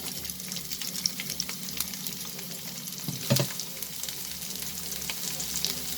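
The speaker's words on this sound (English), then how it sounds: "And now we will add the onions." Onions and garlic fry in a stir fry pan for broccoli chicken, a dense close sizzle with crackling spatter that flares sharply midway as more is tossed in, then settles back to an even hiss.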